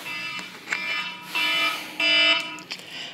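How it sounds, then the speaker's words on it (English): A fire or smoke alarm goes off inside an apartment, sounding in a few loud, steady bursts with short gaps between them, close by and heard without anyone talking. "Y'all hear the alarm going off once again."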